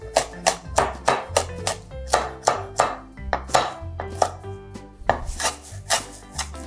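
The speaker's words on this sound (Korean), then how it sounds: "반을 가르셔서 쫑쫑 썰어주세요" A knife chops finely through chives and red chili pepper on a cutting board, a steady run of about twenty crisp, close, rhythmic taps with no talking.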